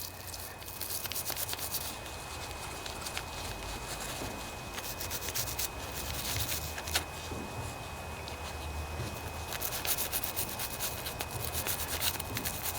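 Steady abrasive scrubbing as rust is cleaned off a part from a Craftsman hydrostatic riding lawnmower transmission, a continuous close rubbing rasp with fluctuating intensity and no talking.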